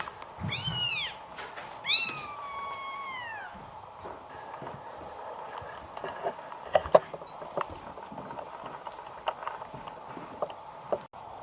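A cat that has just given birth meows a few times early on, high and drawn-out, then faint clicks and soft background noise continue without any talking.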